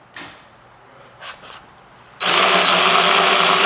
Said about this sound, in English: use your drill with the pilot bit to start drilling these holes